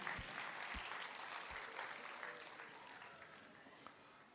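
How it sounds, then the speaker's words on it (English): A preschool annual day audience claps for the children, full applause that starts strong and slowly thins and fades over several seconds, with a few louder claps near the mic. "So let's give them another round of applause."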